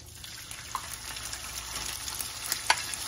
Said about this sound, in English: We about to fry this.